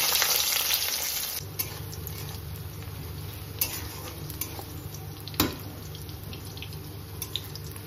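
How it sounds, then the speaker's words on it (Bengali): Chopped onion hits hot oil with toasted cumin seeds in a wok, giving a steady loud sizzle that settles into continuous frying, with a few stirring clanks along the way. "এর মধ্যে অ্যাড করে দেবো হচ্ছে কেটে রাখা পেঁয়াজটা।"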